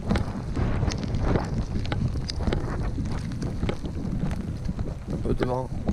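Gusty wind with rain buffets the microphone at a trout fishing spot with a rough, steady roar, broken by a few soft knocks and a brief voice near the end.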